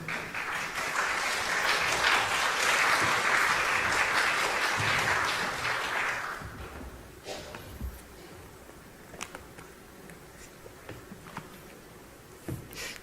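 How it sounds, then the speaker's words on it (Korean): A church congregation at a Wednesday Bible service claps to welcome a speaker, with loud, dense applause for about six seconds before it stops abruptly, leaving quiet room noise and a few scattered sounds. "우리 전사님 나올 때 박수로 환영해 주세요."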